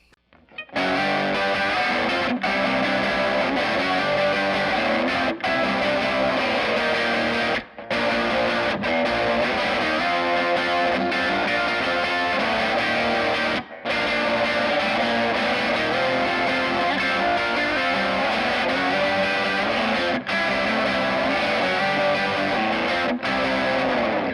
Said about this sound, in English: I'll be running it through this Fender Blues Junior 4 that sounds phenomenal too,